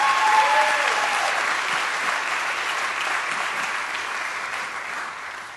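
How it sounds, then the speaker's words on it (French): Steady, full applause from a church congregation during a Sunday service, continuous dense clapping fading slightly toward the end, with a brief tonal squeal early on. "Je pense qu'on peut l'applaudir ce matin."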